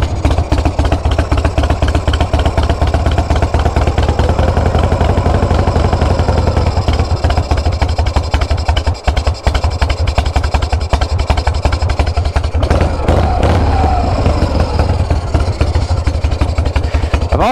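A vintage Harley-Davidson Shovelhead motorcycle engine idles on choke, close and loud, in a continuous throbbing rumble with a brief dip partway through and no voices.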